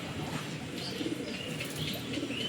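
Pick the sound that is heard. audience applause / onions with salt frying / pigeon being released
pigeon being released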